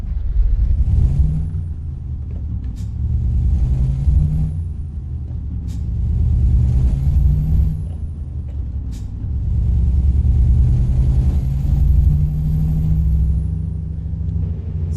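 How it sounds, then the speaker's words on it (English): A low, droning Mercedes-Benz 1519-1525 truck engine in Euro Truck Simulator 2 rumbles steadily, rising and falling in waves, with a few sharp hissing bursts like an air brake releasing. "there's a little bit of a listen for the actual truck noises"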